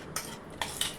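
A metal spoon clinks against the chicken curry pot while ground masala paste is added, giving about four short, bright taps spaced across a second, close by, with no talking.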